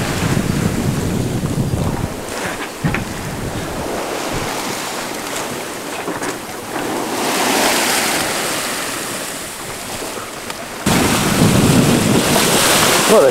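A sailboat under way at sea in about 10 knots of wind near a coastline, with a continuous roar of waves and heavy wind buffeting the microphone that swells and surges loudly throughout.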